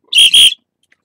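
Two short, shrill blasts of a whistle blown close by, back to back, then silence.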